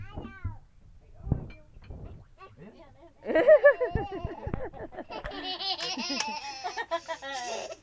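A cat meows several times close by, mixed with laughter and people talking over a quiet background.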